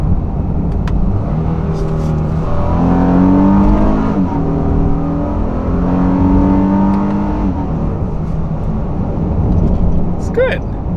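A 2019 Honda Pilot Touring SUV's VTEC V6 engine pulls hard from a rolling start, its drone rising in pitch through gears under steady road and cabin noise.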